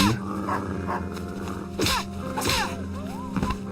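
Dogs barking in the Fragile Dreams video game, several sharp barks and whimpers at close range over a low humming game background.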